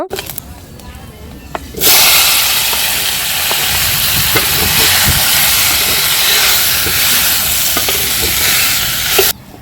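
Half a teaspoon of panch phoron dropped into two teaspoons of hot mustard oil for amra pickle, bursting into a loud steady sizzle and hiss that runs for several seconds before cutting off.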